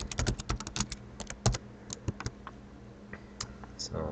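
A computer keyboard being typed on to enter a username and password, quick bursts of close key clicks with short pauses between runs, fairly quiet and with no talking.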